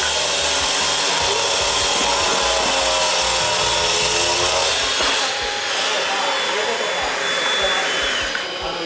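A Hilti Nuron cordless angle grinder cuts or grinds with a loud, steady high-pitched whine and rasping contact noise, its tone shifting partway through as the load changes.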